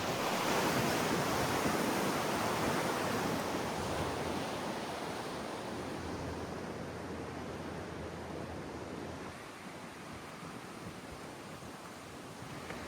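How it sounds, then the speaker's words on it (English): Ocean waves wash onto a secluded, private little beach in Thailand, a broad steady rushing surf hiss that fades slightly over time, with some wind buffeting at the microphone and no voices. "we have arrived at a very secluded private little beach"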